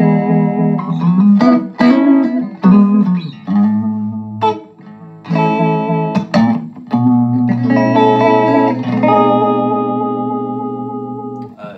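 Electric guitar chords ring out through a 1960s Audio Guild amp drenched in reverb, with a wavering vibrato pulse, strummed in bursts then sustained and fading.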